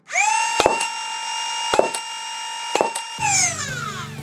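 A modified Nerf blaster revs with a rising whine, and its exposed rear solenoid is pressed by hand to fire single shots. Several sharp pops cut through the loud, steady motor hum before it spins down at the end.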